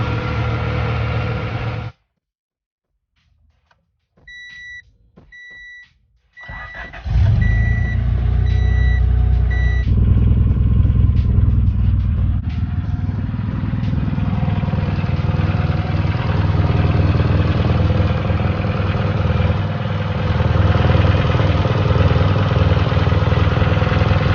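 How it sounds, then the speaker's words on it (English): A Honda D16Z6 engine with a newly installed head gasket cranks and catches after a short quiet pause. It then settles into a steady, loud, high idle that runs on continuously with no voices. "Car started up just like that."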